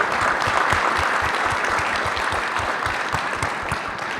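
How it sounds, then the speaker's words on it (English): A conference audience gives steady, moderately loud applause for the event staff, continuous clapping from many hands that holds even and begins tapering slightly near the end. "give a round of applause for the CURT staff"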